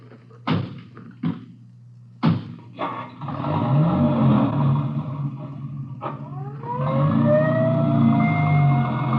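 Ambulance siren in a 1950s-style police radio drama, wailing in rising and falling sweeps over car engine rumble and door thumps, growing louder toward the end of the scene.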